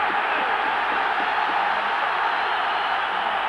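A football stadium crowd roars in support of Rangers during a 1992-93 UEFA Champions League match against Club Brugge, a dense, unbroken wall of cheering noise, loud and sustained throughout.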